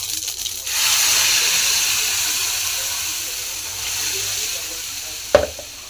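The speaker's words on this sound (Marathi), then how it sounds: "राई तडतडायला लागली." Mustard seeds splutter in hot oil in a pan, a steady close sizzle and hiss that starts after a brief pause, with one sharp crackle near the end.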